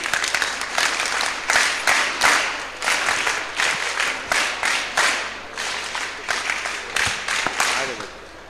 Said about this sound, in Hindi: इनके लिए फिर से तालियां